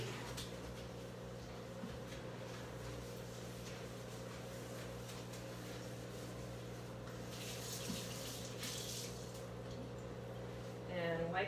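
Hot water runs steadily from a kitchen tap into a sink during a quick scrub, a continuous close hiss with a steady hum beneath and faint clatter near the end.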